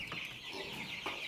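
Several meat chickens cluck close by, a busy overlapping chatter of short calls with no voices over them.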